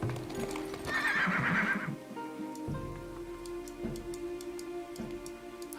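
Horses in the town-building game Farthest Frontier neigh loudly and whinny once, followed by steady clip-clopping hooves and light ticking sounds.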